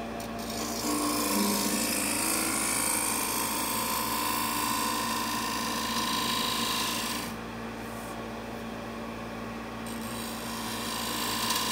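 A shoe scraper rasps across a wooden bowl made from firewood, a continuous close scraping that eases for a few seconds before picking up again.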